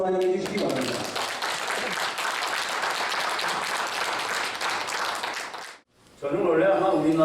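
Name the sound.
audience applause welcoming lecturer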